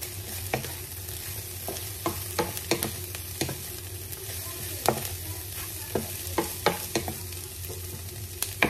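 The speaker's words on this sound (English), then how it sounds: "And now we will add our carrots and our baby corn" Carrots and baby corn stir-fried with glass noodles over a steady close sizzle, punctuated by regular clacks of a utensil scraping and tossing in the pan.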